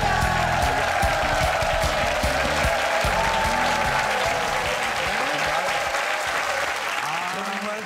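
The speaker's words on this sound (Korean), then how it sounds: "박수 보내주세요." A TV studio audience welcoming army reservists and active-duty soldiers breaks into loud, sustained applause that thins slightly toward the end, with voices speaking over it.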